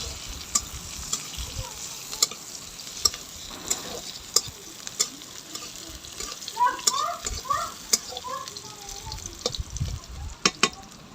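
Chopped onion frying in mustard oil in a wok gives a continuous sizzle, punctuated by sharp clicks and taps of a spatula stirring, with faint bubbling bursts midway.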